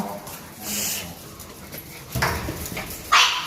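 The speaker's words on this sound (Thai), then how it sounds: "แตมแตมไม่เห่าไปลูกเข้าลิฟต์ไป" A dog at a hotel elevator whimpers and gives short yips and barks in a few close bursts, with brief low background noise between them.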